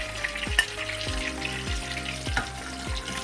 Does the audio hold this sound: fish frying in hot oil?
yes